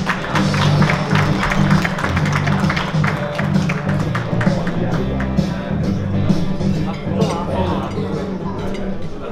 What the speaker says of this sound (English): invite your applause to welcome our honor of guest, the Honorable Adam Marshall